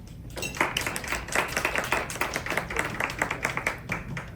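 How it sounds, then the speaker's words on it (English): Audience applause at a HubSpot user group meeting in Denver, a steady burst of many hands clapping that swells in quickly and holds for several seconds, fairly close and dense, with no talk over it. "That's the first time I've gotten a round of applause this event"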